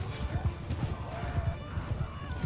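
Horse hooves clip-clop in a quick, steady rhythm in the medieval battle game Mount & Blade II Bannerlord, close and moderately loud, with faint snorting.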